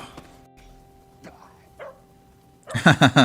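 A dog barks several times in quick succession near the end, loud and close, after a quieter stretch with faint voices and scattered noises from a live-action series scene.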